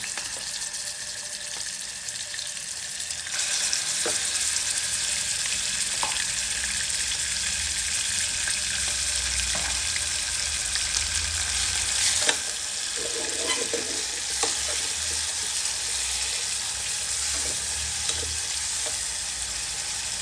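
Small cut chicken pieces drop into hot cooking oil, setting off a loud, close, continuous sizzle that jumps up a few seconds in and holds steady, with occasional stirring clicks and no voices.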